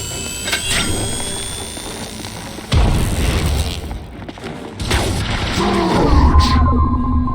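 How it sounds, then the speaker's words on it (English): Grenade explosion in The Bureau video game, a heavy boom that bursts in abruptly amid ongoing combat noise, followed by a rumbling roar and further crashes, loud and close. "Grenade!"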